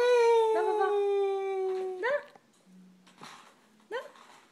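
Dog whining and howling in long, drawn-out wavering cries, loud and close, followed by a few shorter yelps and whimpers with brief gaps of quiet between them.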